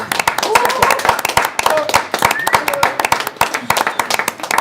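Close, lively clapping from a small group applauding a guest on a dinner show in Chambéry, with sharp individual hand claps in an uneven rhythm and voices talking over them.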